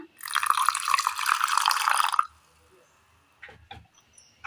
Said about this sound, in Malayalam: നമുക്കൊരൽപ്പം വെള്ളം ഒഴിച്ചു കൊടുക്കാം.